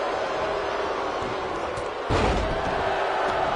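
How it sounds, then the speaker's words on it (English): Wrestling video game with a wrestler slammed to the mat: one heavy slam thud lands midway through, loud over steady arena crowd noise. "Knocked off his feet. Now that's a takedown."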